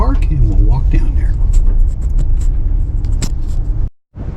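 A car rolling slowly into a parking lot at Acadia National Park in winter, a close steady engine rumble with tire noise that cuts out abruptly near the end, with a voice speaking over it.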